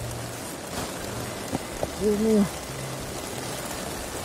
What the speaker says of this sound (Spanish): Oh, qué noche tan lluviosa, muchachos.